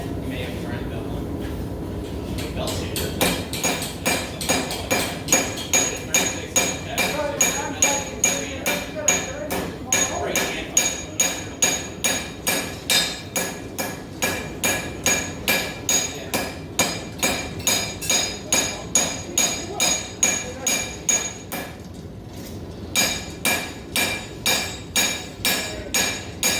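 A hammer strikes metal on an anvil in a forging shop, a long run of regular, loud ringing blows close by with brief pauses, people talking faintly underneath.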